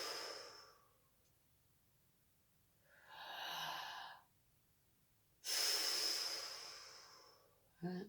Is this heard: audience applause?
no